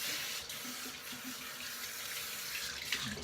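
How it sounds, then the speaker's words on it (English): Water from a tap runs steadily into a sink as a shaving brush is rinsed, a close, even hiss lasting a few seconds with no talking. "Just rinsing out the brush there real quick."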